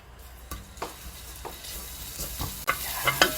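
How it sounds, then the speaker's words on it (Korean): Minced garlic frying in a spoonful of cooking oil in a pan, a low sizzle broken by several sharp scraping stirs of a utensil, with bright crackle building toward the end. "이 마늘을 대충대충 볶다가"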